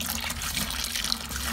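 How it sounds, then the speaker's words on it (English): Water pouring steadily into a liquid wash mixture while being stirred, a continuous splashing gush at close range without any talking. "I'm going to be adding 15 liter of water into this mixture."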